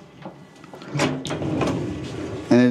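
A bathroom pocket door in a 2024 Airstream Atlas camper van slides along its track with soft rolling scrapes, then clicks and latches sharply at the end, while someone talks over it.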